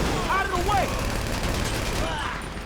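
Gunfire in Grand Theft Auto V story mode during a bank heist, a dense continuous barrage of shots over a constant game background, with an excited voice talking over it.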